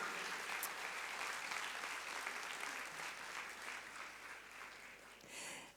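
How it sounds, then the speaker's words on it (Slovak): Applause from an audience at a school Christmas concert of a music school, dense continuous clapping from many hands, sustained for several seconds and tapering off at the end, heard from a distance. "Gabriel Turák a Dominik Matejčík a toto je ich potlesk"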